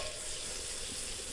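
Steady, dense sizzling of fat frying in a hot pan for cornbread, loud and continuous with no talking.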